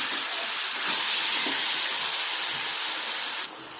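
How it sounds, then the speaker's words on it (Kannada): Cut brinjal frying in hot oil in a pan alongside tomato, giving a steady loud sizzling hiss that carries on without pause and softens near the end. "ವಾಂಗಿ ಚೆನ್ನಾಗಿ ಬೇಯಲಿ, ಎಣ್ಣೆಲೇ ಫ್ರೈ ಆಗುತ್ತೆ."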